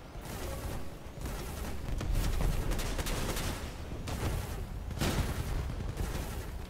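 A Helios plasma emitter fires repeatedly during a Crossout vehicle battle, its noisy energy bursts coming in quick succession at a fairly low level over a steady game background.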